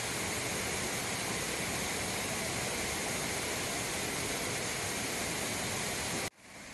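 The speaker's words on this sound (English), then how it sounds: "This spring at Middle Creek is also a waterfall." A spring-fed waterfall at Middle Creek in Chattanooga pours in a steady, dense rush of falling water that stays even and close, then cuts off abruptly just before the end.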